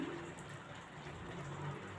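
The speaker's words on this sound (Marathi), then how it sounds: "त्यात थोडंसं पाणी घालते गरम पाणी घालायचं आहे" Hot water being poured into a pan of pav bhaji, a steady continuous watery pour lasting the whole moment at moderate loudness, with no talking.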